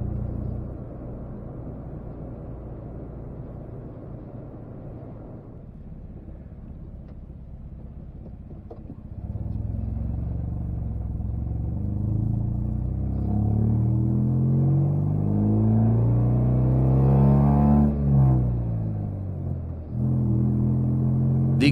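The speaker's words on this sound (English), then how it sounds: "The exhaust note is a lot louder and raspier too." A Saturn car's exhaust running with deactivated cylinders, a low raspy rumble that grows louder and rises in pitch as the engine revs up, then drops back.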